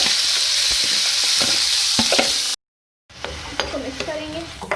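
Moong dal fried with turmeric and spices while being stirred in a pan, a loud close sizzle with scraping strokes, briefly cut to silence before the frying and stirring resume.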